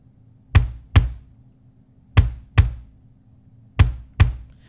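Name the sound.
bass drum without EQ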